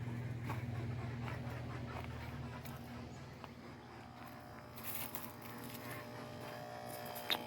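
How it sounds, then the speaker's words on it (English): A garden pond pump running noisily, a steady low buzzing hum that continues throughout with small clicks and rustles over it and no speech. "Pump to the pond's making noise."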